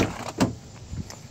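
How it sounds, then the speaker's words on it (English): A Lincoln MKZ door unlocks with a short mechanical clunk and a brief motorized whir near the start, followed by a few fainter clicks, heard close and alone in a quiet space. "let me unlock the door real quick."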